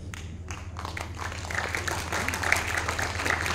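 Audience applause at a Shivaji coronation-day celebration, a dense crowd of clapping that builds in loudness and carries on steadily, with a low hum underneath.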